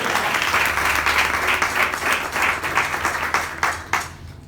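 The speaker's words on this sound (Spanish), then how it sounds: "Denle un fuerte aplauso al Rey en esta hora y a su nombre." A church congregation applauds the King during a Lord's Supper service, with steady, dense clapping and a few sharper bursts near the end, fairly loud and close, with no talking over it.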